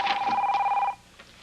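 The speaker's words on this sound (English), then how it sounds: "go get the phone." A telephone rings with a bright electronic trill for just under a second, close and clear, then cuts off into a quiet room.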